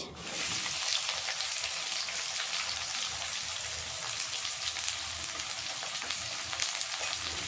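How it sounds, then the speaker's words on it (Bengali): Chopped onions sizzle steadily in hot oil in a pan, a dense continuous frying hiss with occasional crackles and no talking. "পেঁয়াজটা হালকা লাল করে ভেজে নেব"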